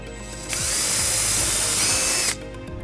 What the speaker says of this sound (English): So what we're first gonna do is drill the back hole.